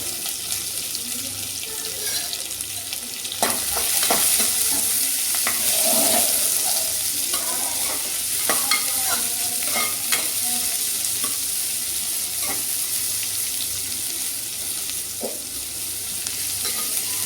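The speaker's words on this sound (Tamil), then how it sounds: "வெங்காயம், பச்சை மிளகாய் 2த்தையும் சேர்த்து போட்டுருவோம்" Onions and green chillies sizzle steadily in a pan as a spoon stirs them, with scraping strokes and a watery, hissing background throughout, no speech.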